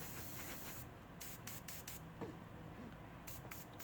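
A Gundam Marker airbrush mists paint onto a model kit with a soft, continuous close hiss, broken by brief spurts and short pauses.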